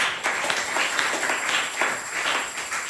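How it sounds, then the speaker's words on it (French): Congregation applauding during a church service on prayer, a dense, steady wash of many hands clapping together at moderate loudness, continuous throughout with slight surges. "Applaudissez le Seigneur."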